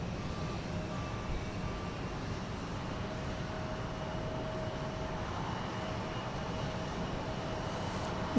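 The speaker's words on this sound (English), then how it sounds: "Got a United Express plane backing out there." A United Express passenger jet pushes back and taxis at Houston Intercontinental airport, giving a steady, distant, low engine roar with a faint whine that holds evenly throughout.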